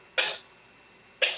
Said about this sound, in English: Coughing all day.